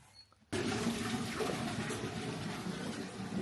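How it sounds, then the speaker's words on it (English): Water drains with a sudden rushing gush that starts abruptly after a brief quiet moment, then continues as a steady, close, even flow with no talking. "I'm going to drain the water up to here"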